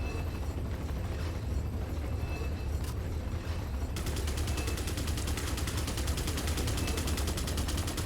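Sustained automatic gunfire in Resident Evil 4, rapid continuous shots running steadily for the whole stretch, growing denser and more rattling in the second half, with no voices over it.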